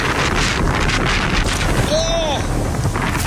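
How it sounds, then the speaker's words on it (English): Strong, steady wind roars across the whole clip ahead of an incoming storm, buffeting the microphone with broadband rumble, while a brief rising-and-falling whistle-like tone cuts through near the middle. "Ah, it's really windy."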